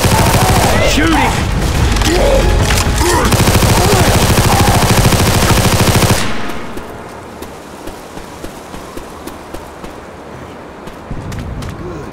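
Dense, rapid automatic gunfire blazes loudly in Left 4 Dead 2 for about six seconds. A quieter stretch with scattered single shots and game ambience follows.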